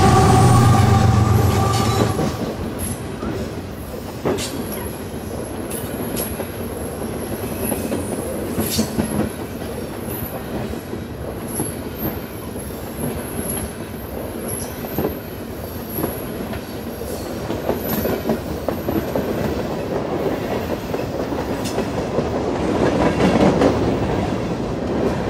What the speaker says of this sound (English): CP ran several trains a day over the Lehigh Line, including what NS classified as the 39Z, which we can see here moving northbound past the mill